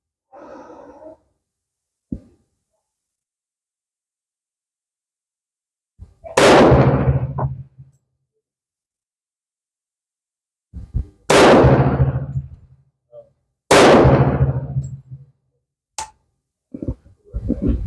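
Shots from a Tisas .45 caliber 1911A1 Service Special pistol, three loud sharp reports spaced a few seconds apart with echoing tails, plus fainter clicks and handling noises between them.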